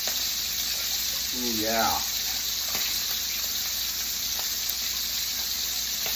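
Steak sizzling in a pan gives a steady bright hiss throughout, with a man briefly exclaiming over it near the start.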